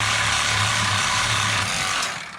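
Small battery-powered cutting tool sawing through a steel exhaust header on a small-block A-body Mopar Barracuda: loud continuous grinding rasp with a motor whine, close up, slowing toward the end.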